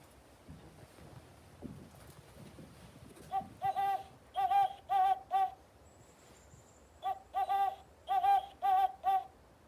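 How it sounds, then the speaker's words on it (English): Great horned owl hoots come in two rhythmic series of deep, evenly spaced calls, fairly clear over faint wind and background hiss. "So we'll start by making the sound of the great horned owl."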